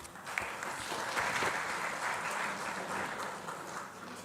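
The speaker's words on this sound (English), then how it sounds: "Can you please give him a round of applause?" Audience applause at a men's parliament gathering as a professor is invited to the podium: a steady, moderately quiet wash of clapping heard from a distance, lasting several seconds without voices.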